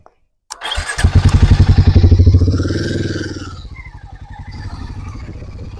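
A Harley-Davidson 440cc cruiser motorcycle fires up after a short silence, catching with a loud, throbbing, pulsing idle close by that eases off and settles into a steady lumpy beat.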